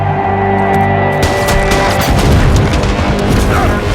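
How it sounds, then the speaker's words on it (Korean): A landmine explodes in a sci-fi action thriller film, a loud, sustained roaring blast that suddenly breaks in over quieter tonal music and keeps rumbling to the end. "폭발하는 지뢰."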